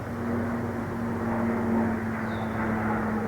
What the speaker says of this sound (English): there's a plane. That's a little louder than